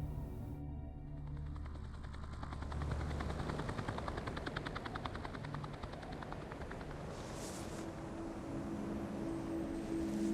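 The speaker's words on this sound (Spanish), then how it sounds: "No sabían si estaban oyendo a los helicópteros de rescate" Rescue or military helicopters thud overhead in a wild setting, a steady rapid rotor chop building and sustained for several seconds with no voices.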